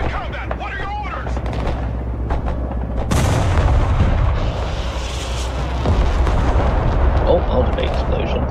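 A large explosion goes off amid battle in the Broken Arrow military strategy game. A sudden loud burst lands partway through, with rumbling booms and gunfire over dense combat noise, and voices can be heard in the mix.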